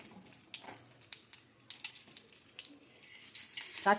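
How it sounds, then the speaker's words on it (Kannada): Mustard seeds sizzle and crackle in hot oil, tempering for a tomato chutney; a soft, steady frying hiss runs throughout with scattered small pops, the crackling growing louder near the end. "ಈ ಒಗ್ಗರಣೆ ಹಾಕ್ಕೊಳ್ಳೋಣ. ಎಣ್ಣೆ ಇಟ್ಟಿದ್ದೀನಿ. ಎಣ್ಣೆ ಕಾದಾದಮೇಲೆ ಸಾಸಿವೆ"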